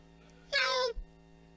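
A human voice imitates a kitten's meow, one drawn-out, high, nasal mew lasting about half a second, close and clear, followed by a short low thump in an otherwise quiet room.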